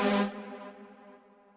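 A sustained synthesized chord from the InstaDance chord plugin in Logic Pro X on its standard setting, one bright struck chord with a stack of steady harmonics that decays gradually over under two seconds.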